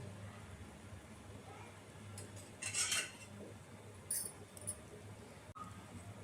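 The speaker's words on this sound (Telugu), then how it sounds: "ఈ ఓట్స్ తీసుకొని మనం పాల్లో వేసి బాగా మిక్స్ చేసుకోవాలి" Oats being stirred into milk in a pot, with a few light metallic clinks and scrapes of a spoon against the pot over a faint background hum.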